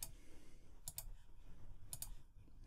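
The J key is pressed on a computer keyboard during Fusion 360 CAD modelling, giving two quick pairs of sharp, close key clicks about a second apart over a quiet room hum.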